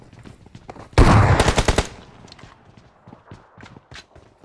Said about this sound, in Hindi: ये शॉटगन कितनी वो है यार